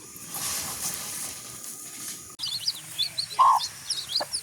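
Faint high chirps and calls from naturally hatched chicks over a steady hiss, with one brief louder peep near the end.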